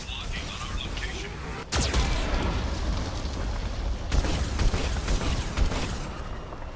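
Heavy Geth cannon blasts in Mass Effect 2 boom twice, followed by rumbling, crackling debris in a game battle scene.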